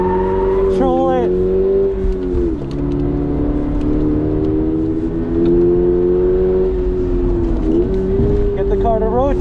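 A stock 2022 Subaru BRZ drifting with the rear end kicked out, engine revving loudly with pitch swings between shifts, tire and road noise under someone talking.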